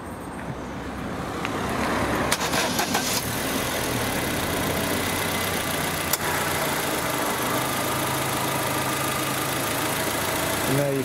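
A Vauxhall Zafira car engine idles steadily at close range, a continuous low mechanical rumble with a brief clatter early on, likely just after being started.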